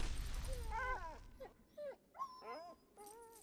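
A small dog in a card game whimpers and yips in a few high, wavering whines, each brief and separated by short pauses, fairly close and alone.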